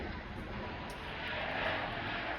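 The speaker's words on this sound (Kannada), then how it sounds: "ಫ್ಲೈಟ್ ಟೇಕ್ ಆಫ್ ಆಗ್ತಾ ಇದೆ ಅಲ್ಲಿ" A loud, continuous airplane engine roar fills the air and swells slightly as it builds power.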